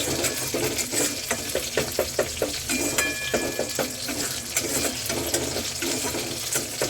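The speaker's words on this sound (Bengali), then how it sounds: "আমি ভালো করে নাড়িয়ে নিচ্ছি, ওটা কষানো চলছে।" Spices being stirred as they fry in a pan, a dense sizzle with rapid rhythmic scraping strokes close by, no talk.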